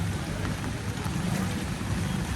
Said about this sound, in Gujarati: અને વરસાદ પાછો ધીમો અત્યારે ચાલુ થઈ ગયો છે